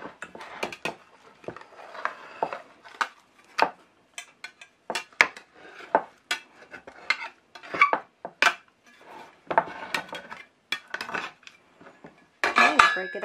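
A spatula scrapes and knocks against a pan bottom, prying up set Jello in a run of sharp, irregular clicks and scrapes, close and fairly quiet with gaps between strokes.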